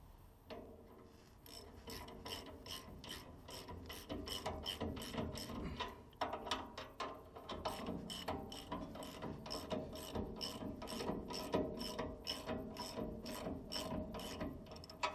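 A ratchet socket wrench works on a Glasspar trailer axle, clicking in long runs of rapid, even pawl ticks. It is close but fairly quiet, with brief pauses between strokes.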